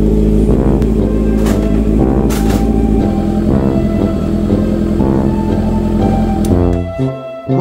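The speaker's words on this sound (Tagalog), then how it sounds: "Simulan natin to sa pagpapainit muna ng motor natin." A Honda CB650R motorcycle engine warms up before an oil change, idling loud and close with a steady throb and a few brief revs, fading briefly at the very end.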